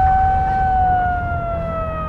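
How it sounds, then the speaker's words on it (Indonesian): A warning siren signalling an earthquake aftershock sounds loud and steady, a sustained tone that slowly falls slightly in pitch over a low rumbling background. "Kalau sirine sudah berbunyi seperti ini, itu tandanya ada gempa susulan"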